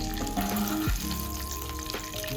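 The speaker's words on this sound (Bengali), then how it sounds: "এইভাবে তেলে ভেজে নেব। হ্যাঁ, মাছগুলি ভাজা হয়ে গেছে।" Pieces of chitol fish frying in oil, a constant dense sizzle with a brief utensil scrape, close and steady with no talking.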